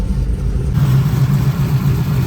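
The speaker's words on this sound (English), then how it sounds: "It's quiet enough that we can actually hear the engine." A tuned car engine with a faulty idle air control motor idles steadily nearby, a low continuous rumble with a faint hum, loud and unbroken.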